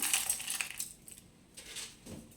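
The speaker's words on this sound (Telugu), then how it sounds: "ఇప్పుడు నేను ఇందులోకి రాక్ సాల్ట్ వేసుకుంటున్నా." Rock salt tipped into a mixer grinder jar with roasted ingredients, giving faint granular rattling and scattered small clicks in a few short bursts.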